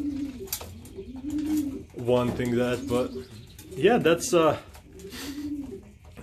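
Racing pigeons back from a 105-mile toss coo in deep, throaty, repeated rolling calls close by, several overlapping bouts rising and falling while someone talks in the loft.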